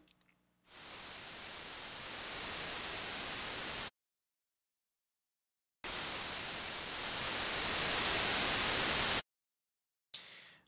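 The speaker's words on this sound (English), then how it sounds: "just add a noise generator, and we'll just stick with white noise" A synthesizer's white noise generator: two long bursts of loud, steady white-noise hiss separated by silence, with a third burst just starting at the end.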